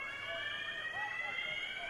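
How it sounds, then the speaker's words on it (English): A fire alarm rings continuously at a football ground, a steady high electronic tone that holds without a break, fairly loud and unaccompanied by talking. "that fire alarm does get a bit annoying after a while"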